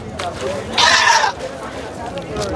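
Goats bleat at a goat market in Delhi at night, a short loud bleat standing out briefly over a busy crowd with people talking nearby.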